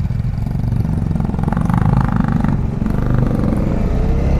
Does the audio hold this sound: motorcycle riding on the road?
yes